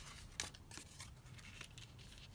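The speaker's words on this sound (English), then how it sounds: "Just trim that down." Scissors snip and trim paper in a few quiet, irregular cuts, each a short crisp rasp with soft rustling between, close by and without talk.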